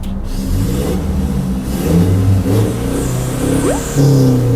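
A 2019 Toyota Revo 2.4 pickup engine revs hard through a loud aftermarket exhaust, several rising and falling throttle blips with a deep rumble, close by and without talk.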